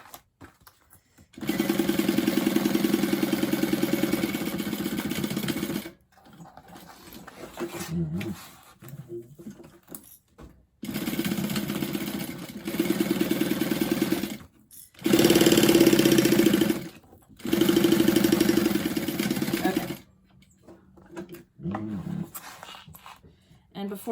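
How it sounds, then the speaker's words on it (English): Home sewing machine stitching the lining seams of a bag, several loud whirring bursts of a few seconds each separated by pauses, with someone talking between runs. "And I'm sewing the lining up just like I did the exterior."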